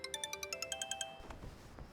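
A phone ringtone for an incoming call chimes in a rapid, evenly spaced string of bright electronic beeps for about a second, then cuts off, leaving low room noise.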